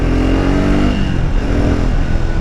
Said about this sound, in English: Oh, that sweet rumble from a single cylinder.